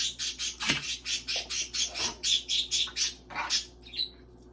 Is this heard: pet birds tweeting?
yes